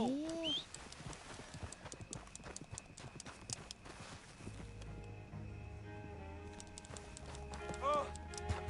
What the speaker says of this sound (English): My horse ran away.